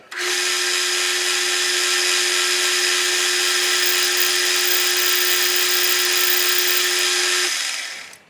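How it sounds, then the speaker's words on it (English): A lathe boring bar takes a light skim cut to clear rust off a metal edge, giving a steady, loud, continuous whine with a sustained tone that runs unbroken for about seven seconds before stopping. "I'm only going to take a skim off that to get the rust off."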